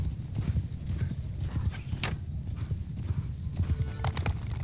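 Horse hooves galloping in Mount & Blade II: Bannerlord battle, a steady rapid clip-clop rhythm close by and loud, with a brief whinny and clashing battle noise mixed in.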